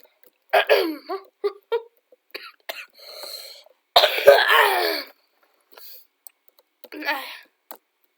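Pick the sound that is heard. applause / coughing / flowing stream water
coughing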